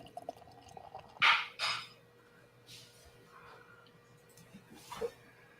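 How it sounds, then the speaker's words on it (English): Beer is poured into a glass in a few short splashing bursts, with faint liquid trickles and quiet pauses between them, close by and moderately loud. "let's go ahead and pour it"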